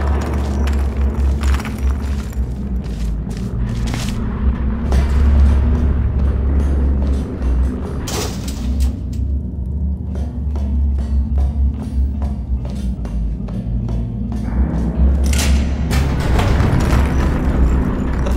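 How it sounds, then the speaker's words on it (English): Video game explosions and falling rocks rumble through a collapsing facility, deep booming bursts and crashing debris rising and falling over a constant heavy low roar, loud and close. "Is exploding. Rocks are falling everywhere"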